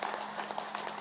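Hands clapping hard during a yoga session, a quick, loud run of sharp claps lasting about a second, with no voices over it.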